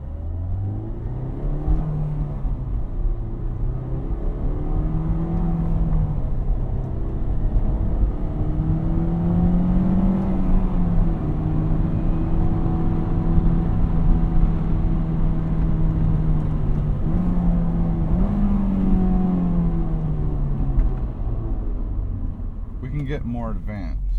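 A manual transmission car pulls away and accelerates, its engine note rising and holding through the gears as a steady mid-pitched drone heard from inside the cabin, with road and wind noise beneath.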